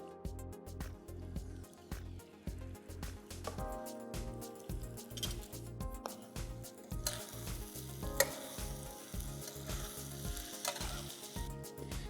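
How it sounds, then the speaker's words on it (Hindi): Kaleji (liver) masala frying in oil in a pan, a steady sizzle with repeated stirring and scraping clatter throughout, close and continuous, growing brighter and hissier toward the end. "हम ज़रा सा वेट करते हैं कि इसका ऑयल छुटने लग जाए और ज़बरदस्त सा मसाला हमारा"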